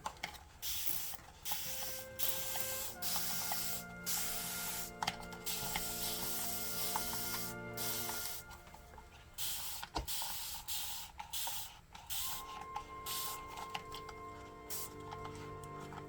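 A mister spray bottle hisses in short repeated bursts over an isopod enclosure, soft close puffs with a faint background hum and clicks between sprays.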